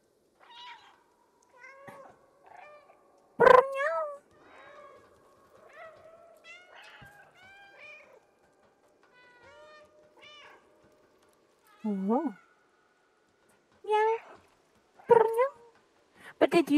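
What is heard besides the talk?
cat meowing in the video game Stray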